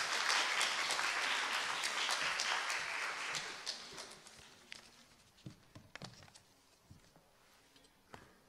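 An audience at an academic session on postcolonial perspectives from South Asia claps in a dense burst of applause that gradually thins out into scattered claps and quiet room noise.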